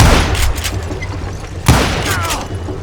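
Gunfire in the Western shooter Call of Juarez: Gunslinger, with two loud broadband shot bursts about a second apart over a dense, rumbling game backdrop.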